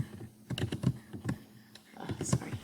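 Computer keyboard keys tapped in short irregular bursts while entering answer choices into a graphing tool during a math review, with a person talking over the clicks throughout.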